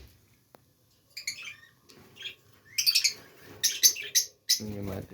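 Lovebirds inside a nest box give bursts of high, sharp chirps and tweets that come and go in quick irregular clusters, close by and fairly clear against a quiet background.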